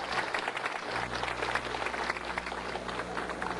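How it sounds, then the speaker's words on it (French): An audience applauds steadily as an honour plaque is presented to a former teacher by his ex-students, a dense even clapping that fills the whole stretch without pause. "On applaudit."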